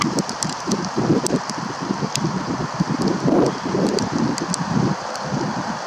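Rain patters steadily outdoors at Mercer Meadows with soft rustling and gusts of wind, scattered sharp drops ticking throughout.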